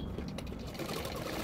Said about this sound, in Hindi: तो मैं उसके नीचे और एक सिलाई डाल रही हूँ ताकि ब्लाउज़ का जो फिनिशिंग है बहुत ही अच्छा है